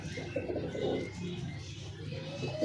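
A Ferozpuri pigeon coos softly at close range, a few low, throaty rolling calls repeated over a quiet background.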